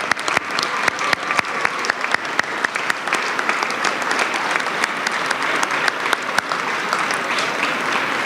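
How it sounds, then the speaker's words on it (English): A high school gym crowd at a basketball senior night applauds the seniors, a dense, steady wash of clapping for several seconds, loud and sustained, with sharp individual claps poking out of the roar. "Let's all give our seniors a round of applause for their commitment and dedication"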